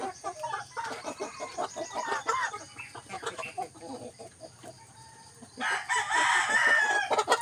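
Rhode Island Red chickens clucking and a rooster crowing near a feeding spot, with a louder burst of cackling toward the end; no talking.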